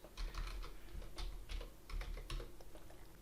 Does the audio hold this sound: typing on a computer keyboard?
yes